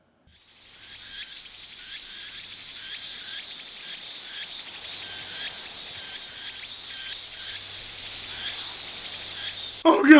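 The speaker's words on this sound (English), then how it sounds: "Oh god, the cicadas! They've taken over the world and drowned out all the sound!" Cicadas buzz loudly in a dense, steady high-pitched drone with a regular pulsing throb. The chorus swells in from near silence, holds throughout and ends with a brief louder burst.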